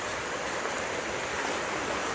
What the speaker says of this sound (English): There's a bit of a river down there.